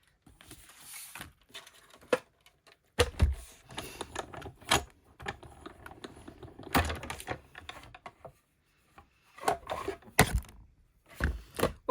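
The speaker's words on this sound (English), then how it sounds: "Just get my cut and emboss machine." Clicks and snaps sound as a card goes through a hand-cranked cut and emboss machine for a papercraft diorama box card, in bursts with quiet gaps.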